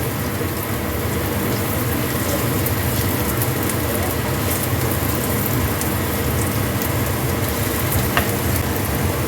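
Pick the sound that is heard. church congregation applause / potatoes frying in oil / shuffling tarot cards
potatoes frying in oil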